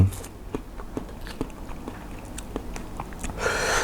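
Someone eats Korean-style soy-marinated salmon up close, with soft, wet bites and steady chewing in a loose rhythm and an occasional faint crunch. No words are spoken.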